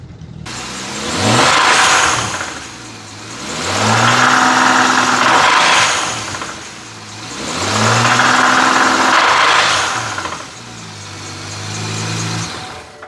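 A car engine, suspected blown with the check-engine light on, revs in four swelling bursts between rougher idle stretches as it is pulled into a garage, loud and close with no talking.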